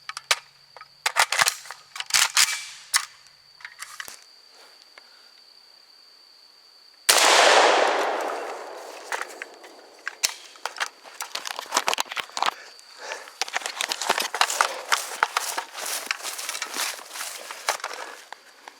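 A 7.62x39mm rifle firing 122-grain full metal jacket rounds into a concrete block: light clicks and handling noise, then one loud, sharp outdoor shot with a decaying tail, followed by scattered crackles and footstep-like patter.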